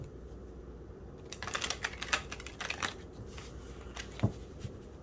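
Tarot or oracle cards being shuffled by hand in a quiet room, a run of soft riffling flutters and light papery taps, close and moderately loud, with no talking.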